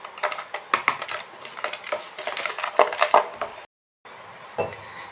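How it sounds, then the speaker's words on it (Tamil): A spoon scrapes and clinks against a bowl in quick irregular strokes while gram flour and salt are mixed, close and fairly loud, with a brief pause before the stirring resumes. "நல்லா மிக்ஸ் பண்ணிக்கலாம்."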